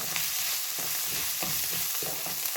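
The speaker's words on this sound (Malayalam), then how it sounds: "അപ്പോൾ നമ്മുടെ സവോളയൊക്കെ വഴന്നു വന്നു" Onions sauté in a pan with a constant bright sizzle and frying hiss, broken by periodic stirring scrapes about every half second, close and steady, with no voices.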